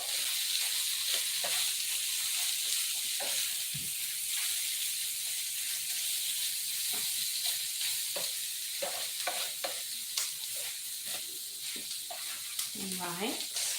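Argentina red shrimp sizzling loudly in a hot pan, with a constant bright frying hiss and scattered scrapes and clatters as the shrimp are tossed and stirred, close and continuous.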